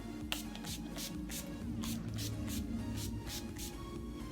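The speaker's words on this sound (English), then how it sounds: "It's gonna take and spray, and I like to just do like a cross pattern" A series of about ten short hissing spray bursts, evenly spaced, close and soft, like a pump mister being pressed repeatedly.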